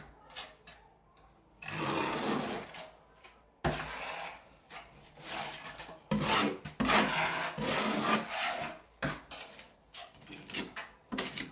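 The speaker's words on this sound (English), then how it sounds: "Scrape your mud away." Tile mortar is scraped off a shower wall in repeated rough, rasping strokes, loud and close, with short pauses between the passes.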